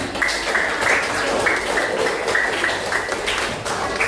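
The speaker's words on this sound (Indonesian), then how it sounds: "Boleh tepuk tangan" Children in a classroom clap their hands, a continuous round of close, busy claps with a few sharper taps and thuds mixed in, lasting around four seconds.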